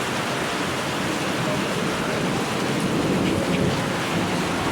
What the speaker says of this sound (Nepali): ओभर हेभी रेनिङ भइरहेछ यहाँ त